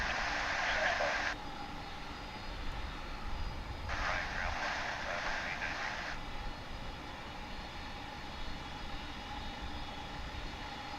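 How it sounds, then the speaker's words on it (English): A UPS cargo jet departs DFW International Airport bound for Louisville, its engine roar a steady, distant broadband rumble with bursts of louder hiss, while a voice talks over it. "that one will be UPS flight 9300 off to Louisville"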